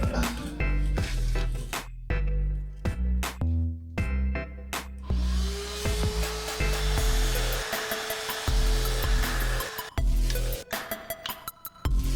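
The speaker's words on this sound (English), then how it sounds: "so get the shop vac again, suck the leaves out of it." A shop vac sucks leaves out of a car part, starting with choppy bursts and bumps, then settling into a loud, continuous whining roar with a steady tone that cuts out briefly near the end.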